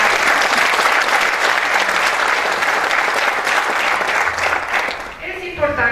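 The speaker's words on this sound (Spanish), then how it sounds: "Un aplauso para el capacitar." Sustained applause from an audience at a judiciary conference on image and voice rights, with loud, even clapping throughout that dips only slightly near the end, and no speech over it.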